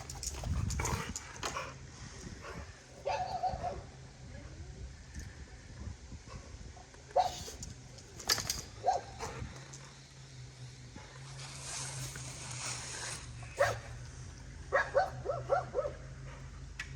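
Farm dogs bark, yip and whimper over several seconds in uneven bursts, some calls sharp and nearby, others softer whines between them.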